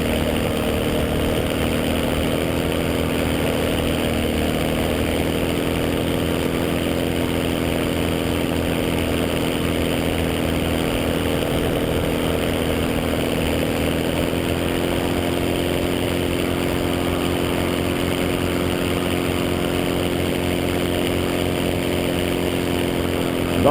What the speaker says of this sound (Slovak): Nepočujem ťa, lebo mi chrapčí motor.